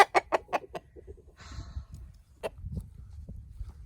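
Free range mixed flocks with roosters, a rapid run of sharp clucks up front, then softer scattered clucking and rustling nearby, with one more clear cluck later.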